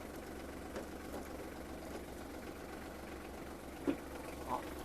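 A Kubota GL27 tractor engine in its lowest gear idles and chugs at a low, even rumble, with a couple of faint knocks and clanks over the steady hum.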